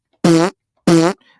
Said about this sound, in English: Where's my fart button?